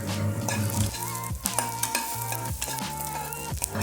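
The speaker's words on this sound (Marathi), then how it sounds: "इथे हे कांदा आलं लसूण तेलावर चांगलं असं परतून झालेलं आहे" Onion, ginger and garlic sauté in oil for a potato bhaji, giving a steady close sizzle with scraping stirs throughout and a faint tonal hum behind.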